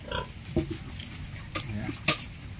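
Pigs on a piggery farm give short grunts and oinks at close range, scattered among shuffling noises, with a person talking over them.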